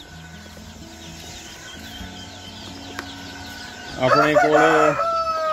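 FFG breed chicks at a poultry farm chirp in a faint, busy chorus, with a louder burst of calls near the end, while someone speaks briefly over them.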